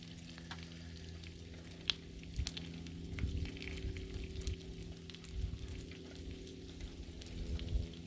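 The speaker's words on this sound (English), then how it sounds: "All that fat just fries right up." Bacon fat frying on a Blackstone griddle makes a continuous quiet sizzle and crackle, with scattered pops and occasional scraping rising and falling over about eight seconds, with no voices.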